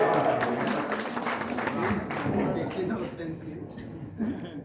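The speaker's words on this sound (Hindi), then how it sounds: "एक बार जोरदार तालियां दें।" Applause from the audience at a poetry gathering in Ballia, fairly loud clapping that fades out over a few seconds, with chatter and voices underneath.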